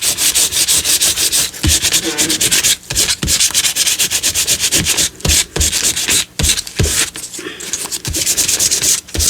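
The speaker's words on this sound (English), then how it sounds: "I think I might need a new piece of sandpaper soon." Sandpaper is rubbed steadily by hand, a close, loud, rhythmic rasping of quick back-and-forth strokes broken by a few brief pauses.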